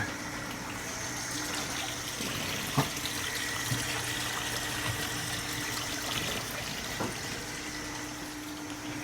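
Water running steadily back into a fish tank, a constant soft splashing stream with a low hum beneath and a few small knocks and clicks scattered through.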